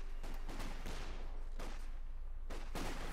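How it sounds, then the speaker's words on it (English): LEIG 18 light infantry gun firing 75mm high explosive shells in the Company of Heroes 2 video game, several fairly quiet booming shots in quick succession over a continuous battle rumble. "LEIG 18. Firing out the section, opening up with the 75mm high explosive shells."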